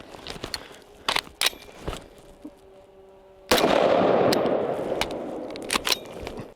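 Gunshots ring out against steel targets during dummy-round malfunction drills: a few sharp, separated cracks early on, then a louder burst of dense noise that keeps going, with more scattered shots.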